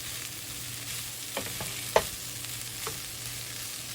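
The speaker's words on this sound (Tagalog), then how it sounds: "Haluin natin ang masarap na fried rice." Fried rice with vegetables is stirred in a pan over a quiet, low sizzle, with a few spatula scrapes and one sharp clink near the middle.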